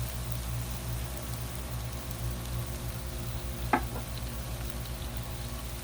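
Beef fried rice with vegetables and soy sauce stir-frying on a Blackstone griddle, a steady low sizzle under a faint constant hum, with one brief clink of a spatula midway.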